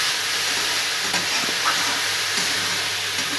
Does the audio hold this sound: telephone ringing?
no